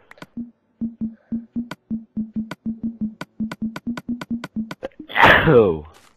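A single loud sneeze bursts out near the end, following a long run of evenly spaced soft thumps, during Minecraft gameplay.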